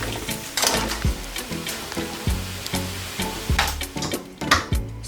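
Jamaican-style pepper shrimp sizzle loudly in a pan, with rhythmic scraping strokes of a utensil stirring about once a second over the steady crackle.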